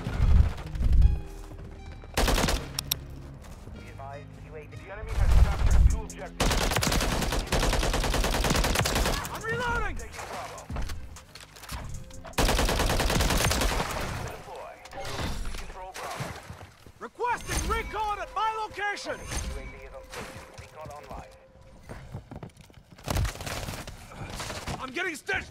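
Holger 556 rifle fire in Modern Warfare 3 multiplayer, rapid bursts of automatic shots and distant firefights across a hectic match, with a player talking and game voice callouts over the shooting.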